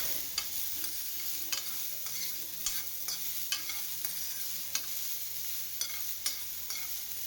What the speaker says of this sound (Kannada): ಈ ರೀತಿ ತೆಳ್ಳಗೆ ಕಟ್ ಮಾಡಿಕೊಂಡು ಸಣ್ಣದಾಗಿ ಎಣ್ಣೆ ಹಾಕ್ಕೊಂಡು ಒಂದು 5 ನಿಮಿಷ ಫ್ರೈ ಮಾಡ್ಕೊಬೇಕು